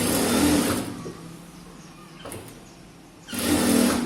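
A sewing machine hems the edge of a 44-inch close-neck blouse in two loud bursts of fast stitching, with a quieter pause between them. The sound is close and clear.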